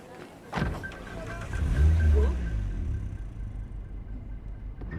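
A car in the video game Cyberpunk 2077 rumbles as it pulls away, with a low engine swell that rises and then settles into a steady drone, and a voice speaks briefly at the start.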